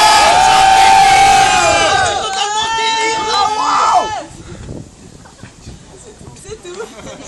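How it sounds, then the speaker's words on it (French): Wrestling crowd at a CWF show cheering loudly with whoops and shouts, then fading to a quieter murmur of scattered voices. "Elle est où la foule en délire?"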